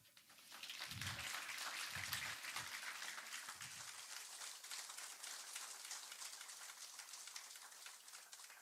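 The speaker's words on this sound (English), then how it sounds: "Let's have one more round of applause." A church congregation at a contemporary worship service breaks into a round of applause, a soft, distant, even wash of clapping that swells quickly and holds steadily for several seconds, with a few low thumps near the start.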